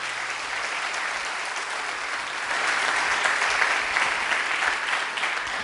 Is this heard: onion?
no